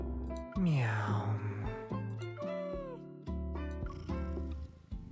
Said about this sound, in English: you can hear them purr and stuff